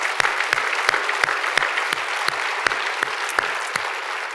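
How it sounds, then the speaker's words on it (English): An audience applauds at a city's State of the Address gathering in Hampton, a steady, dense wash of clapping held at an even level throughout, with scattered sharper individual claps standing out. "So if you will give them applause."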